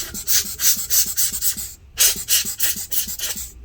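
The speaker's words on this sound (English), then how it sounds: "let me use the air blower." Air blower cleaning dust out of a Dell Latitude 3540 laptop, a loud close hissing rush delivered in rapid rhythmic puffs, with a brief pause midway before it continues.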